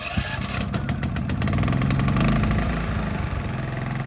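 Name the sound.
portable generator running for mobile detailing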